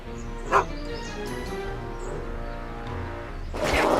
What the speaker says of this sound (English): Get away from me, you crazy mutt!